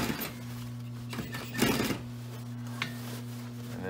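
Machine stitching a patch onto a canvas wall tent, a steady mechanical hum with a low drone, broken by a few brief louder bursts as the needle runs back and forth across the patch.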